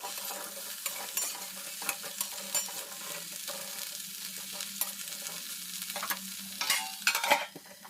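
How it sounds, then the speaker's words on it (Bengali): Mixed vegetables (radish, pumpkin, flat beans, green beans, carrot and potato) fry in oil tempered with dried chilli, fenugreek, fennel and nigella seeds, giving a steady close sizzle broken by scraping stirs that grow busier toward the end. "তেলের ওপরে শুকনো লঙ্কা আর একটু মেথি মৌরি আর কালো জিরে এইটাই ফোড়ন দিয়েছি আর কি।"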